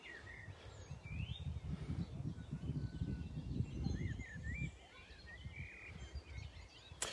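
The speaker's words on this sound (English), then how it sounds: "just listening to the birds" Birds call and chirp faintly in the distance along an outdoor trail in Maltby, Rotherham, with scattered short whistles over low rumbling wind and footstep noise.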